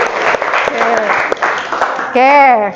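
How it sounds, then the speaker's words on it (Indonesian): A class clapping hands together in short, regular beats, close and lively, underneath a teacher's speaking voice. "Tepuk tangan buat kita semua."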